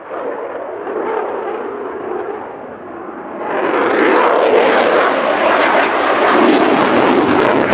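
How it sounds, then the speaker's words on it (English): Eurofighter Typhoon Tranche 2 jet, ZK324, flying an air show display at RAF Cosford, with a loud continuous engine roar that swells sharply into a fuller, more powerful blast midway and stays heavy. "the Typhoon display team is using a Typhoon Tranche 2, in this case it's ZK324"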